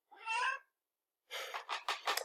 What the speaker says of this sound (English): This is my cat Smokes.